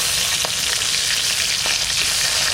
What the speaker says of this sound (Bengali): মাছটা বেশি ভাজবো না, হালকা হালকা ভাজবো।